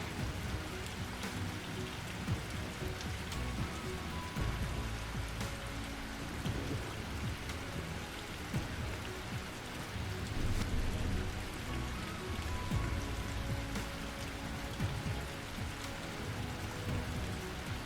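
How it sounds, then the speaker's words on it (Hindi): Steady heavy rain pours down continuously in a Kerala village, a dense hiss with low rumbling undertones and no voices, constant in loudness throughout. "आज भी सुबह से काफ़ी बारिश हो रही है, कल से भी ज़्यादा तेज़ बारिश है आज।"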